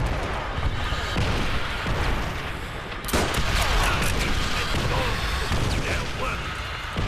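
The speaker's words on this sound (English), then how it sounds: "Their artillery is literally on every part of the map." Artillery fire in the Call of Duty: World at War PC multiplayer game, with dense, heavy booms and rumbling blasts and one sharp explosive crack partway through, while a player talks over it.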